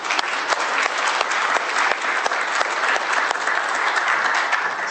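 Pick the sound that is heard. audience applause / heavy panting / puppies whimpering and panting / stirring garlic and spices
audience applause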